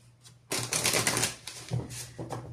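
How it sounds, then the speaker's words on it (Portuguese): An oracle card deck is shuffled close up, a short dense burst of papery riffling and flapping that starts abruptly and runs for about two seconds. "Baralhando bem"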